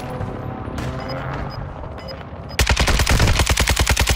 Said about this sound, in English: I do not like this gun, it's so bad, Aaron.